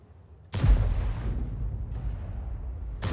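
Tank gun fire from an E 100 tank destroyer in the World of Tanks video game: one loud, sharp close cannon blast followed by a long rumbling decay, then two more distant shots.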